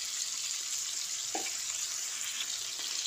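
Cumin seeds, ginger paste and turmeric sizzle in hot oil in a pan for a vegetarian aloo dum, giving a steady, even frying hiss with one brief knock partway through.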